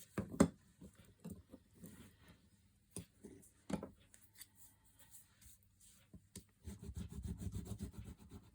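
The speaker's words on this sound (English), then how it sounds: "Burnish that on so it stays put." Paper being burnished onto a handmade card by rubbing, heard as faint, sparse scraping strokes with a few sharper taps and a denser stretch of rubbing at the end.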